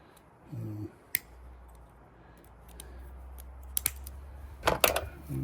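A boat fitting's excess material being trimmed, heard as a few quiet crisp snips and clicks, a single one early on and a tighter cluster near the end, close and faint over low background hum.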